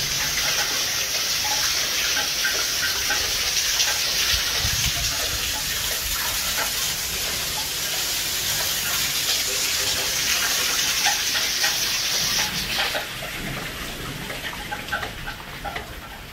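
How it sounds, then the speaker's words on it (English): Water pouring steadily into an abandoned prison building, a continuous broad gushing rush that holds for most of the stretch before dropping to a lighter flow near the end. "This place is going to be flooded soon with all this water coming in."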